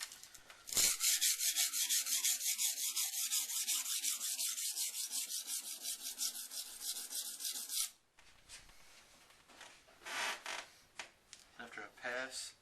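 A Henckels kitchen knife is stroked along a Norton India sharpening stone, giving a rapid, rhythmic scraping rasp for several seconds, followed by quieter, intermittent strokes.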